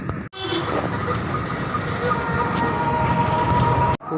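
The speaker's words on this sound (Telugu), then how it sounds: "Puri railway station." A train at Puri railway station gives a loud, steady rumble that runs for about four seconds, cut by brief dropouts at the start and end.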